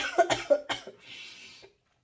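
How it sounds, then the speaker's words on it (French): A few sharp, close coughs in quick succession, followed by a soft breathy exhale before it falls silent. "Désolée, je vais tousser."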